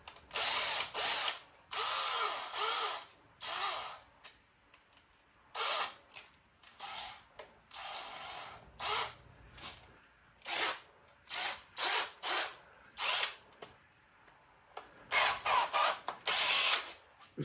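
A power drill bores pocket holes through wooden boards held in a Kreg jig, in a series of short, loud whirring bursts separated by brief pauses, with no talking.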